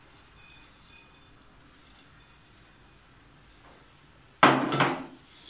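Walnuts and baklava filling tossed together in a bowl, a sudden loud clatter and scrape near the end after quieter faint handling, with no voices.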